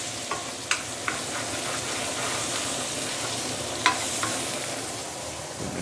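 Chinese cabbage stew with garlic, shallot, spring onion and herbs sizzles softly in a single pot, with a few light clicks of a utensil stirring over a steady frying hiss.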